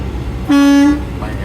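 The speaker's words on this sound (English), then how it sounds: "So at that point, I'm going to test my city horn" A truck's city horn gives one short, clear toot of about half a second inside the cab, over a low idling rumble.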